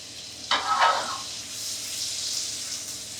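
A knob of butter with a little oil sizzles in a pan for leg of lamb, a brief louder spit as it goes in, then a steady hiss and crackle continuing close by.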